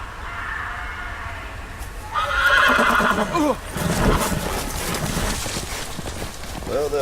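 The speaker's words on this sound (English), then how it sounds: "Well, there goes a horse" A horse whinnies loudly and shakily in the Game of Thrones video game, with hoof clip-clops and ambient noise before and after it, and someone speaking briefly.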